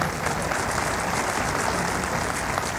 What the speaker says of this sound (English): Give that person a hand clap, would you?